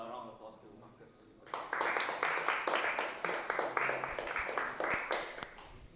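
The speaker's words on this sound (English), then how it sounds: "Let's give a round of applause to Marcus." Audience applause breaks out after a talk at an event on the decentralized science space, starting after a quiet moment and continuing as steady, moderately loud clapping with some voices mixed in.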